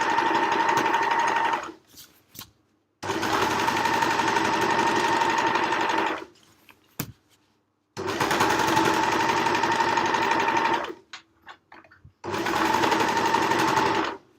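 A close, loud overlocker sewing over the thicker handles of a fabric library bag runs in several long steady bursts separated by short pauses with faint clicks, its mechanical whir dominating throughout.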